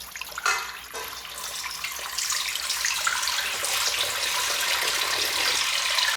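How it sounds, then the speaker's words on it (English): Water pours steadily into a saucepan to make light syrup, a loud continuous splashing rush that opens with a brief clatter and runs on without letup until it cuts off. "to a saucepan, you're going to add 9 cups of water"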